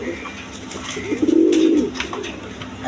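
A quality pigeon, one of a tagged pair, gives a single soft, low coo up close over a faint background murmur.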